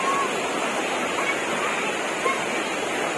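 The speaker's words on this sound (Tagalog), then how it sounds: "Yan ang falls." A continuous, loud broadband rush of a forest waterfall at Suanphueng, Ratchaburi, steady and unbroken, heard close up with no other sounds standing out.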